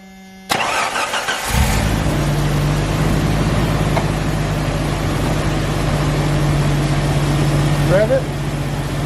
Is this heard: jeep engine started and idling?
yes